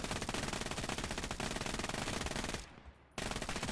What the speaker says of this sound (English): I want to hip fire my machine gun.